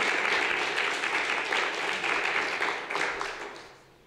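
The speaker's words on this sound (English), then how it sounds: "you could clap one more time for him" An audience at St. Andrews claps for the church's pianist and choir director, a dense, fairly distant round of applause that holds steady and then tapers off in the last second.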